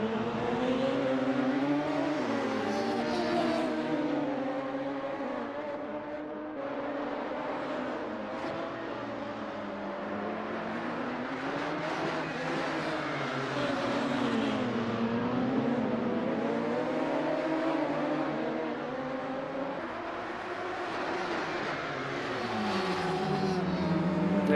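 Radical SR3 race cars circling the Magione circuit, engines droning and shifting pitch continuously throughout, with commentary voices running over the steady racing noise.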